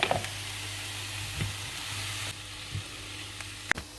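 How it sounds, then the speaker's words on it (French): Onions and bell peppers fry in olive oil in a pan, giving a steady close sizzle with a few soft knocks and stirring clatters, including one sharp tap near the end. "Je vais faire chauffer une cuillère à soupe d'huile d'olive dans ma poêle et puis je vais les faire"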